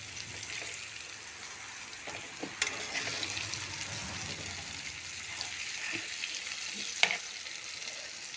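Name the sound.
jackfruit slices with spice mix frying in a pan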